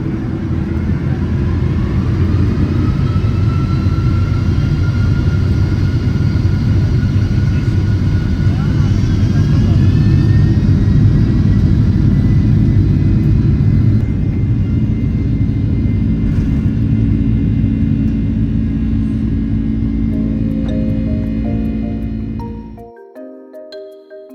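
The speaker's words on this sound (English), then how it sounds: "you still get to hear the immense engine sound of the 1980s era PW4000 engines" A Boeing 767's Pratt & Whitney PW4000 engines roar on takeoff, droning steadily with a rising whine, a sustained powerful rumble that cuts off abruptly near the end.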